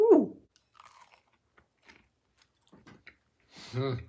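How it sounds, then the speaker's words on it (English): Someone bites into and chews a crunchy, moist cake made with dried figs and nuts, with a few close crisp crunches, scattered quiet chewing and a louder bite or voice near the end. "It's a great taste, nice and moist, but very crunchy."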